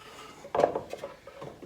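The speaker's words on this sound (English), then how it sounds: "That is the lid of the bucket" A plastic lid of a dust collector bucket being handled, a brief clattering knock followed by a few lighter taps and rubbing scrapes, close and moderately loud.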